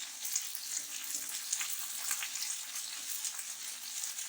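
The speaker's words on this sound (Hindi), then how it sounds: "भिंडियों को अच्छे से फ्राई करना है ताकि उनकी जो लेस है वो खत्म हो जाए" Okra fries in a pan with a constant soft sizzle and faint crackling, moderately close and steady throughout, without any voices.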